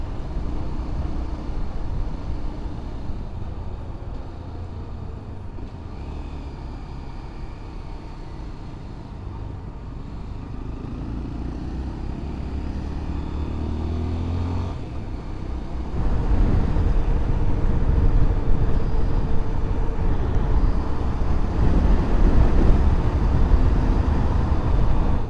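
Steady road rumble and tyre noise from inside a vehicle as it turns into traffic in southeastern Brazil, with a broad low drone that grows louder and rougher in the second half. No one talks.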